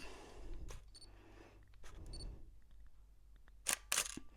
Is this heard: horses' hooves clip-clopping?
no